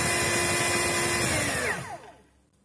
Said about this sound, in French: L'aspirateur fait un bruit assez raisonnable, il n'est pas très silencieux